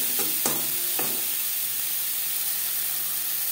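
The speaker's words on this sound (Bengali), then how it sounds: "লবণ, হলুদ, পেঁয়াজ, টমেটো, রসুনের সাথে বেশ ভালো করে মিক্স করে দেবো" Salt, turmeric, onion, tomato and garlic are stirred in a pan for fish curry, giving a few distinct scraping strokes in the first second over a soft, steady sizzle, close by, with no talking.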